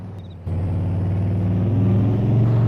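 Truck engine from Farming Simulator 22 on a Nebraska corn farm, a steady low rumble that jumps louder after a brief quieter start and holds a continuous droning hum, close and alone.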